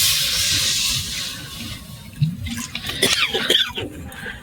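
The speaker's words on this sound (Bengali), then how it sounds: "কড়াটায় জল দিয়ে দিচ্ছি।" Water poured into a hot kadai for an aloo mango chop recipe, a broad hissing rush for the first two seconds that fades, followed by softer splashes and clinks close by.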